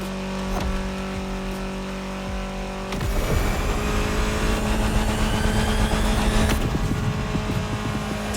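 A car engine in The Crew Motorfest revs hard and climbs in pitch, a loud close whine that surges after a brief shift and keeps pulling steadily.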